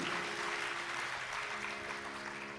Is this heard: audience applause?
yes